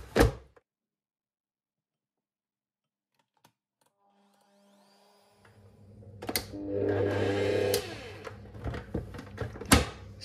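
An electric mixer whips a cooled custard base into cream for a gluten-free Esterhazy cake, starting after a long quiet stretch and running as a steady whir for several seconds, with bumps and knocks near the end.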